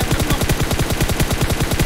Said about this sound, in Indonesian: Sumpah gua nembak lantai.